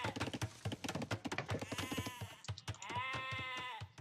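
Sheep bleat repeatedly in a match of the real-time strategy game Age of Empires, layered calls with a wavering tone rising over busy game sounds and clicks, two long bleats standing out near and loud.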